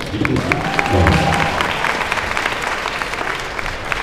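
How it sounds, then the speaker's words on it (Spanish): A crowd bursts into steady applause, dense clapping that carries on for several seconds, with a brief thin whistle-like tone near the start. "esto se gana un aplauso"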